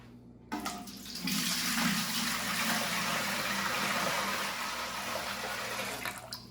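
Tap water gushes steadily into a large turkey fryer pot to make about two gallons of brine, a loud broad continuous rush that starts abruptly and runs throughout, with no talking.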